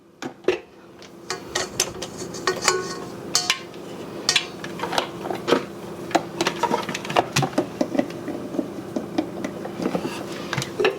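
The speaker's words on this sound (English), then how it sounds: "Going to put my dough hook on the mixer." Metal clinks and clatter as a dough hook is fitted onto a stand mixer in a home kitchen while making English muffins, a string of sharp knocks and rattles close by with no talking.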